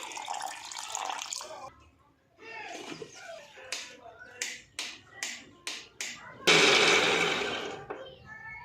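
Water is poured into a mixer jar holding ground peanut chutney and curd, giving a short splashy pour near the end, preceded by a run of sharp tapping knocks and brief mixer noise.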